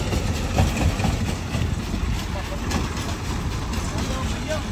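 Engine of a peanut sieving machine working in dusty farm soil, giving a steady low rumbling drone with a broad gritty hiss, moderately loud and continuous throughout.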